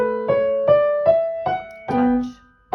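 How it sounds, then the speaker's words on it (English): Solo piano plays the opening phrase of Bach's Minuet in G with detached articulation, six separated notes struck cleanly and evenly, close and moderately loud. "Or they can all be detached and it would sound like this"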